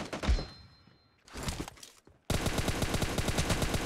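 Gunfire in PUBG Mobile: a single thumping shot, a short burst, then a sustained rapid automatic volley, loud and close.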